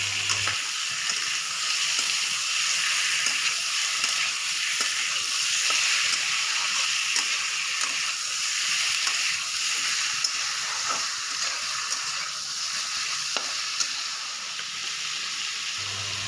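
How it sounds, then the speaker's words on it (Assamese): Chicken meat frying in a pan with green and dried chillies, a steady, even sizzle and hiss holding throughout at close range, with occasional faint stirring scrapes and no voices. "এতিয়া মাংসখিনি এনেকৈ 2 মিনিটমান মই ভাজি ল'ম।"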